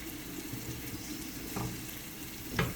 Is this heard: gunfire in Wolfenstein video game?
no